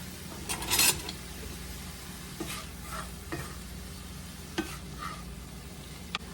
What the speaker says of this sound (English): I have a pound of Italian sausage here that I'm cooking and crumbling